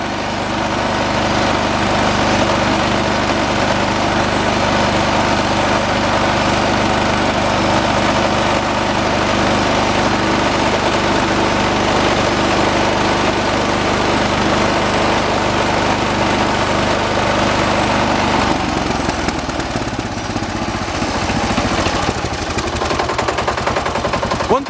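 A John Deere 216 lawn tractor engine idles close by with a loud, steady, rough chugging that continues throughout and shifts slightly near the end.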